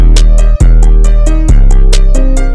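A booming 808 bass in a hip-hop beat, played without a clipper so it is very loud and overbearing, thudding under a ticking hi-hat pattern with repeated low hits.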